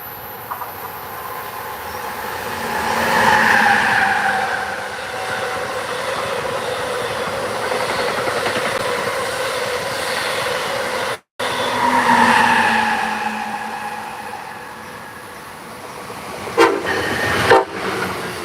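NJ Transit trains passing on the rails, a loud rumbling roar with screeching wheel tones rising and falling as one train goes by and another follows, with brief sharp squeals near the end.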